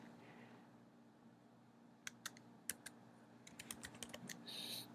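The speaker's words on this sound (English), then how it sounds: "I'm going to do a whole bunch of stuff and type it and come back in a second." Keys clatter on a computer keyboard in irregular clusters of close, crisp clicks over a quiet room hum, sparse at first and then quicker, ending in a brief burst.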